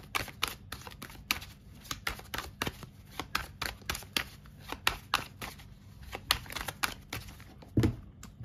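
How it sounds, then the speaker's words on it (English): A deck of cards is shuffled and handled close by, producing quick bursts of crisp riffling clicks and flicks in an uneven rhythm, with a faint low voice briefly near the end. "let's reshuffle for Apple as well"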